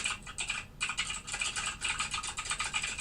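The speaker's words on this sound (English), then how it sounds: "I probably could have cut the typing down a little bit." Rapid, continuous clicking of computer keys being typed on, fairly close and moderately quiet, with short pauses between bursts.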